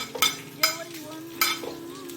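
Garlic cloves dropped into hot oil, giving three sharp sizzling bursts with stirring clatter between them, close and moderately loud, no talk.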